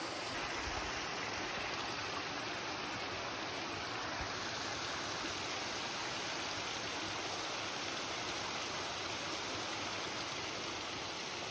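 A waterfall at a rocky hiking trail sends up a steady, dense roar of rushing water that holds even and unbroken throughout, with no voices over it.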